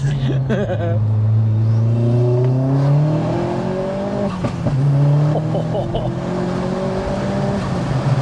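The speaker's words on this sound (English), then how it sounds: "Cheeky second gear pull" A self-built 310 bhp Vauxhall Astra VXR pulls hard in second gear, its engine note rising steadily through a long, loud sweep and then dipping at the shift before climbing again, heard from inside the car with a voice briefly over it.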